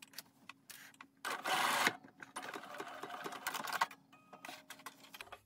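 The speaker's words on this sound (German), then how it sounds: "jetzt senke ich hier einmal die Nadel ab, damit ihr das seht, beziehungsweise nähe ich mal ein paar kleine Stiche." A sewing machine fitted with a zipper foot sews a few small stitches while making a bag: quiet, close, irregular bursts of rapid mechanical needle ticking separated by short pauses.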